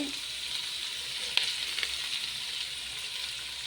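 Sliced onions with curry leaves sizzle and fry steadily in hot oil in a pan for fish biryani, a close, continuous crackling hiss with a few small pops.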